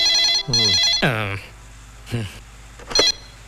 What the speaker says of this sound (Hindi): लगता है उसी सूर्य का फोन है।